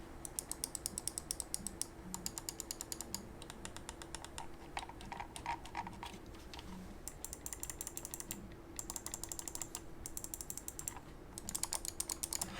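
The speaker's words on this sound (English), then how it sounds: "give you a quick sound test of the button presses here" Rapid, light clicking from Corsair M55 Pro gaming mouse buttons, bursts of quick taps with brief pauses, faint and close, over a soft background hum.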